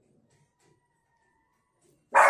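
A puppy gives one sudden loud bark or yip right at the end, after near silence with a few faint soft sounds.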